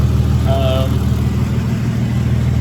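A Mazda Barra-powered RX4 project car idles with a loud, steady low engine drone throughout, while a person talks briefly over it.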